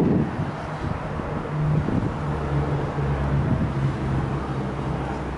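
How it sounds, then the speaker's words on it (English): Wind blows across the microphone in low gusty rumbles on the roof of a camper van, with a faint steady hum underneath and no voices. "It's pretty windy out here"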